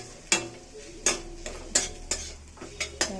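Potatoes and drumstick leaves fry in a pan, stirred in sharp, separate scrapes and clinks about twice a second over a soft, steady sizzle, with no talking.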